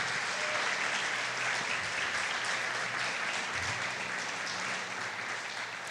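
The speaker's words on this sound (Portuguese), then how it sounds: "Aplauda ao Senhor e glorifique o seu nome por isso." Congregation in a church service applauding together, a dense, steady wash of clapping that stays loud and even throughout with no voices on top.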